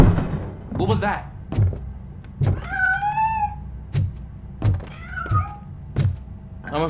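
A cat in the Robocop: Rogue City video game meows twice, a clear drawn-out cry and a shorter second one, between loud regular mechanical thumps over a low background hum.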